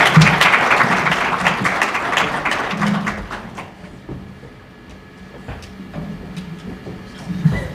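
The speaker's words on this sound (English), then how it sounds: "Please let's give him a round of applause." An audience bursts into loud applause that gradually thins out and fades, leaving scattered claps and a few thumps near the end.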